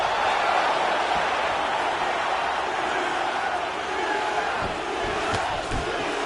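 At a UFC event, an arena crowd chants Diaz's name in a steady, dense roar that fills the space and runs unbroken for several seconds.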